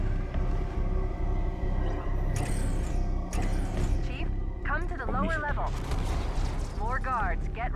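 Gunfire in the Halo 2 campaign, a series of sharp blasts and bursts among rumbling effects and whooshing sweeps, with someone talking throughout.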